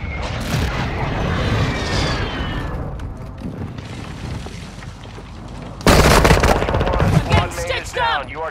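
Automatic gunfire and explosive booms from a Call of Duty MW3 DMZ match, rattling bursts running densely throughout with a louder, harsher barrage late on and game voice callouts mixed in.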